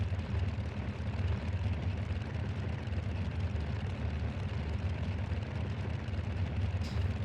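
Steady drone of a Boeing 247D's engines in flight in a flight simulator game, a dense continuous low rumble holding level throughout with no pauses.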